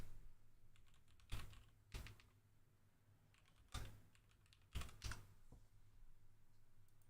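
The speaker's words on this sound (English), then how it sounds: "I'm typing that in and I do not see." Sparse, scattered taps on a computer keyboard, a few sharp isolated clicks and short clusters spaced over several seconds against a quiet room background.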